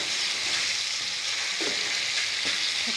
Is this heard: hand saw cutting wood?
no